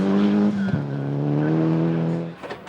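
Rear-wheel drive rally car sliding through a mid-stage spectator point on a forest rally stage, its engine note loud and close, holding a steady high revving tone that dips briefly, then fades near the end.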